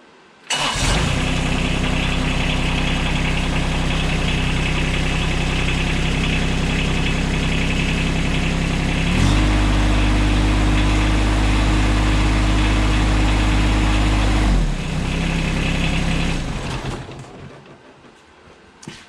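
A John Deere X748 lawn tractor engine is cranked after an oil change, catches and runs at a steady, loud idle, rises to a higher speed midway, then drops back before shutting down near the end, with no talking.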